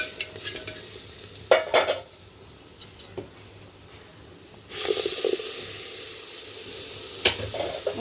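Gravy seasoned with turmeric cooks in ghee with a soft hiss and a few stirring scrapes, then swells into a louder sizzle partway through.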